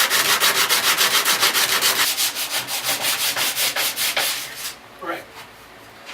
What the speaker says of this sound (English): now that we have the spoon all sanded